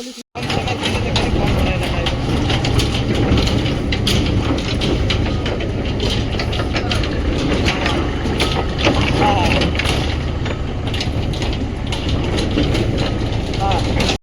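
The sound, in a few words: tractor engine idling while loading cage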